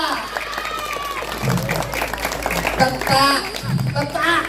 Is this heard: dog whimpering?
no